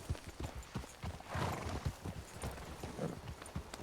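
Horse hooves clip-clop in a steady walking rhythm on a video game trail, fairly faint and close, with a brief whinny-like flourish partway through and no talk.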